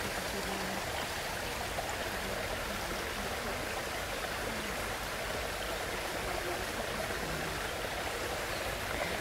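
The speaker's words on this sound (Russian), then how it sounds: "И дальше ручеек впадает в небольшой пруд." A small garden stream in a Japanese garden in Prague trickles steadily into a small pond, a continuous close babbling rush of water with no voices.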